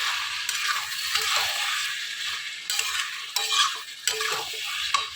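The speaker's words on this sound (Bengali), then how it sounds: "এই যে আলুর দম রান্না করা হচ্ছে মটরশুঁটি দিয়ে" Potato curry with peas cooking in a pan, a soft steady sizzle with scraping and stirring strokes from a spoon heard close by, no voices.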